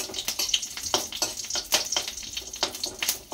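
Bay leaf and chillies crackle and sizzle in hot oil while ghugni is being cooked, giving a steady, close spitting sizzle with irregular sharp pops running throughout.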